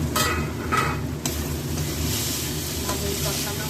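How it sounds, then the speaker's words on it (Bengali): Masala for paneer curry being stirred and sautéed in a covered pan, a dense close sizzle and scraping over a low rumble, with a few sharper knocks early on. "এবার মশলাটা খুলে দেখি কিরকম কষানো হয়েছে"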